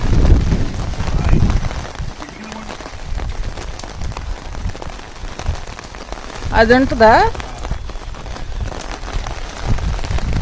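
Steady rain patters on a terrace garden with plants, loud and continuous, while people talk briefly over it.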